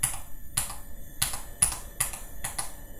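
On a computer keyboard, the Ctrl Z shortcut is pressed over and over. Seven crisp, evenly spaced clicks land about every half second, close and fairly quiet, with no talking.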